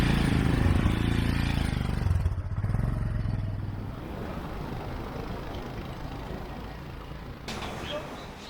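A car drives along with a steady low engine and road rumble, loud at first and settling into a continuous drone with some clatter.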